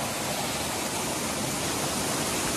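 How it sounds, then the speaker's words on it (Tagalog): A small waterfall fed by clean water from upstream flows nearby in Barangay Napsan. The rush of water is dense, constant and fairly loud, and no one talks. "Malinis to na waterfalls kasi galing sa taas."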